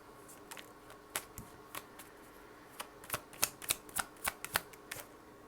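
Tarot cards shuffled during a card reading, a run of crisp, quiet riffling snaps and flicks that start sparse and then bunch into a quicker burst near the end, heard alone at close range.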